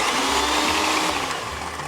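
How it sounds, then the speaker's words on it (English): Eggs being beaten for a pumpkin almond pie filling with an electric mixer or blender, a steady close motor whir running continuously and easing slightly toward the end, with no talking. "Here we have the eggs, and I'll beat them up a little bit."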